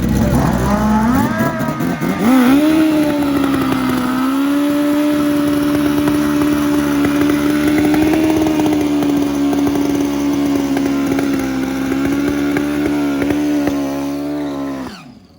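Turbocharged Pro Boost drag racing motorcycles roar loudly at Gainesville Raceway, a sustained high-revving engine howl that holds steady for over ten seconds before cutting off, with an announcer talking over it.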